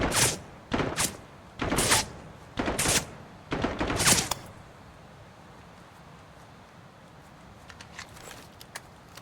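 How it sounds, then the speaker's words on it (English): Five loud gunshots ring out in Dagger Directive, each sharp crack trailing off, irregularly spaced over about four seconds, then the scene drops to quiet ambience with faint rustling. "I missed a lot of shots"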